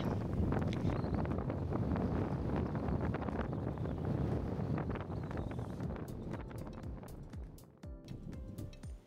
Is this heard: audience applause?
no